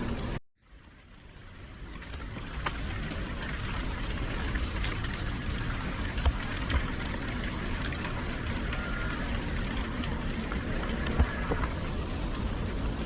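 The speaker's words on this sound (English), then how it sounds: "You can hear the rain" Steady rain falls on the forest canopy of a mountainside near Taipei, a dense, even hiss with occasional drips that runs unbroken after a brief gap at the start, with no voices.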